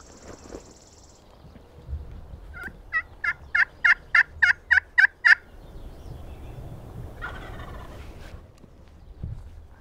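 A wild turkey tom gobbles in a rapid rattling burst of about eight pulses, clear and moderately close, with a quieter call beforehand and faint outdoor rustling.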